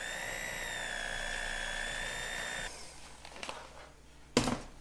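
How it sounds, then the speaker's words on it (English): An electric mixer beats cheesecake batter with flour and vanilla, giving a steady high-pitched motor whine for under three seconds before stopping, followed by a few bumps and clatters. "we're going to mix this together one more time."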